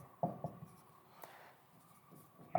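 Marker or chalk scratching out maths steps on a board during a class 9 sequences lesson, a few short rubbing strokes near the start and a lone tap midway, quiet and close.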